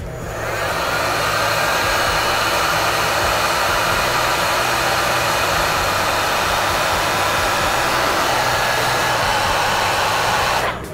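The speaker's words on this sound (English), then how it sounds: "We're gonna grab our heat gun and melt the solder." A heat gun blows a loud, continuous rushing roar as it melts solder inside wire connectors for a home audio system rewiring, running steadily for about ten seconds before cutting off.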